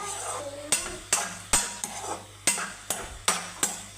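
Food sautéing in a frying pan: a spatula scrapes and stirs in sharp, fairly regular strokes, about every half second, over a low sizzle, close and loud.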